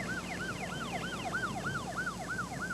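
An ambulance siren wails in a repeating rising-and-falling pattern, several quick cycles heard at moderate distance over faint road rumble, with no voices.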